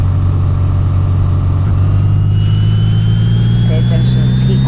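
Honda Civic race build engine roaring steadily on a dyno, loud and close with a sustained droning tone and a slowly rising whine.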